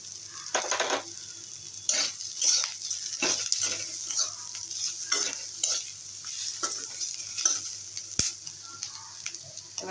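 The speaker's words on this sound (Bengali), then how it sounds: "আর 1 মিনিটের মতো ভেজে নেব।" Jute leaves frying and being stirred in a pan for bitter jute-leaf curry, a steady close sizzle broken by repeated scraping stirs of the utensil against the pan, with no voices.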